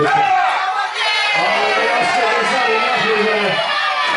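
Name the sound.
wrestling crowd cheering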